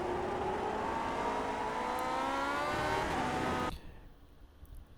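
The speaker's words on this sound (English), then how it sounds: "Then you kind of feather in the throttle as you go up through the gears." A Lotus 49 race car engine in the iRacing sim climbs through the gears, its loud continuous whine rising in pitch several times before dropping away abruptly near the end.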